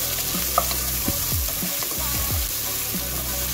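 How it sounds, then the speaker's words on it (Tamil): Onions, cumin and spices sautéing in a pan for a Sri Lankan aubergine curry, a steady sizzle with several clattering spatula strokes across the pan, close and continuous with no talking. "இப்போ எல்லாத்தையும் போட்டுருக்க வதக்கி விடுவேன்"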